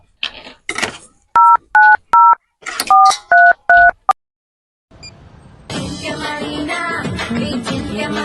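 Telephone keypad tones beep in a quick irregular series of about eight crisp presses, loud and close, followed by a pause, faint hiss, and then a busy stretch of music.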